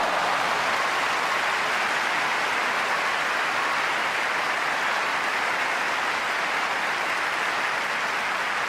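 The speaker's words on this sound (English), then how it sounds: "no wonder they're applauding this one loud and long" A Wimbledon grass-court crowd applauds a long tennis rally, a steady, loud wash of clapping that holds without a break for the whole stretch.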